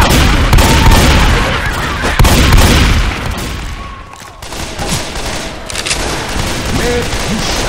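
Rapid gunfire in Left 4 Dead 2, a Christmas-modded zombie shooter, dense and loud with overlapping bursts and heavy booms throughout, a brief lull midway before the shooting resumes.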